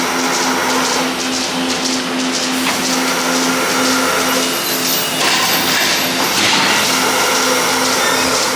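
The vacuum of a cow milking system runs as a steady, loud, broadband whooshing drone with a constant tonal hum, continuous and close with no talk.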